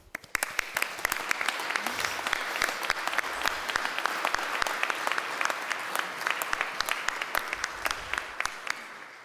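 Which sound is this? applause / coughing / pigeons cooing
applause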